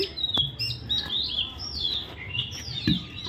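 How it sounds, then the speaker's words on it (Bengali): Outdoor birdsong in the evening, with several thin, high chirps and short trilling calls repeating irregularly over a faint background hush, with occasional soft taps. "দেখো পাখি ডাকছে"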